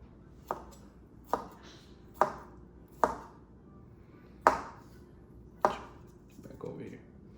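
A knife chops scallions on a cutting board in slow, evenly spaced strokes, about seven crisp thuds close by.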